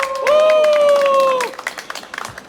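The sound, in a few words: audience applause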